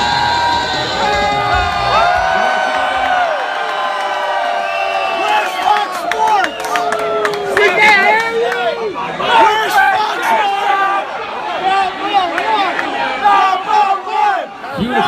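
A large crowd packed into a bar cheers and shouts for a live sports radio broadcast, loud and continuous with chatter, whoops and bursts of excitement throughout.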